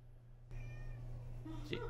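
A cat meows once, short and fairly close, inside an RV parked at Rocky Bayou State Park in Niceville, Florida, over a steady low hum.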